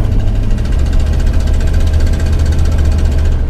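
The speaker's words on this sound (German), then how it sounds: "Wir sitzen in einem 87er Ford F250, die man so ein bisschen tackern hört." The 1987 Ford F250's engine idles loud and steady as heard from inside the cab, with a rough low rumble and a fast, even mechanical ticking running throughout.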